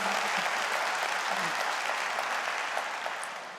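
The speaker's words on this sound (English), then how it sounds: "yes, that deserves a round of applause." Audience applause at a State of the City address, a dense steady wash of clapping from a large crowd that carries on throughout and fades slightly toward the end.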